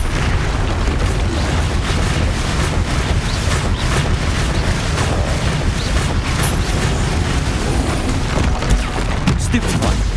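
Confringo blasting-curse explosions in Hogwarts Legacy battle a troll amid dense, continuous combat noise, with booming bursts and clattering impacts piling together at a steady high level.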